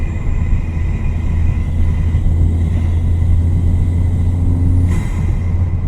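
A car with a very loud aftermarket intake cruises in 5th gear, a steady deep droning rumble heard from inside the cabin, with no talking.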